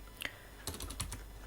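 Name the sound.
typing on a computer keyboard while writing code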